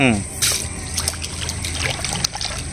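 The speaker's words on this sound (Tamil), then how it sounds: "அள்ளி இப்போ நல்ல தண்ணியில் போடுறேன்." A handful of paddy seeds drops into a container of salt water, making a close splash and patter followed by soft trickling and sloshing, while someone talks over the sound.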